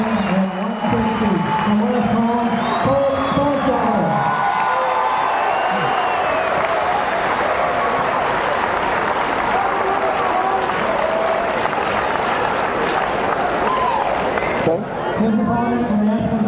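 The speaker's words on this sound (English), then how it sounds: "Standing ovation from the crowd." A wrestling crowd gives a standing ovation after a match, loud sustained applause and cheering that fills the space, with an announcer talking over the start and end.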